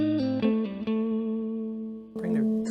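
Electric guitar through a Fender Blues Jr. amp using its built-in spring reverb: a short run of plucked notes into a long sustained tone, then a fresh strum with a splashy reverb tail.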